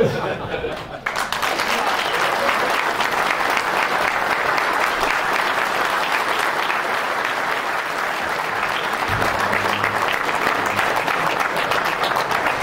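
Sustained audience applause at a touchdown club awards dinner in a hotel ballroom, a dense steady wash of clapping that fills the whole stretch at even loudness, with faint voices mixed in.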